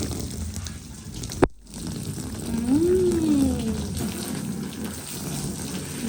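Water running from a tap or hose while a charpai cot is washed, a steady moderate splashing flow that swells after a short click and gap, with faint voices in the background.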